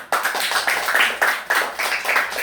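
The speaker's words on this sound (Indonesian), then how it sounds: "Oke, tepuk tangan dulu." A classroom of students clapping hands together in a rhythmic group clap, several quick bursts of claps close by with no talking.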